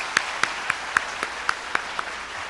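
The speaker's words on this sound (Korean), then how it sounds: "우리 한번 하나님께 큰 박수를 돌리시도록 하겠습니다." Church congregation applauding during a Korean worship service, heard as a string of about eight distinct, evenly spaced claps in a steady rhythm, fairly close and crisp over a faint background wash.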